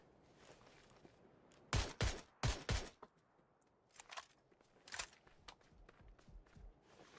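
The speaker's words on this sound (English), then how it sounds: "Now we see the mortars coming out from Rock." Mortar fire in a video game: a few sharp, booming impacts arrive in close pairs, followed by scattered fainter thuds against a quiet background.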